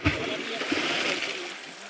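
Water splashes in a river as people clear stones to catch fish, a close, rushing splash with one sharp slap near the start, and voices talking over it.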